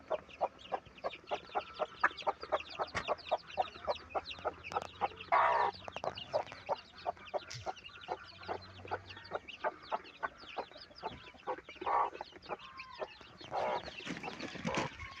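A flock of about fifteen chickens, all descended from a single hen, clucks and squawks close by in steady overlapping bursts, with occasional louder calls standing out.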